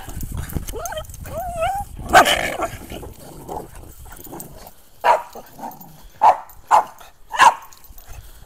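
Backyard dogs bark and yip in short, loud bursts, mixed with whimpers and excited vocal noises, with uneven gaps between the barks.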